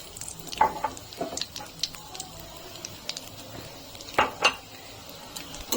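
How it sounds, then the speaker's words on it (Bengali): Semolina lightly frying in ghee over medium heat, stirred with a metal utensil: intermittent scraping clinks against the pan over a faint sizzle, close and uneven in rhythm. "সুজিটা হালকা করে ভেজে নিতে হবে।"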